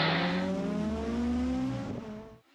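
A Toyota Corolla twin cam historic rally car pulls away from the stage start, its engine revving hard and loud before fading quickly into the distance.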